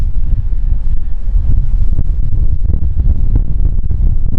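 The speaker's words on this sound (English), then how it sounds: "The wind has certainly picked up here." Strong wind buffets the microphone at London City Airport on a cloudy day, a steady low roaring rumble that stays loud and constant with gusty fluctuations and no talk.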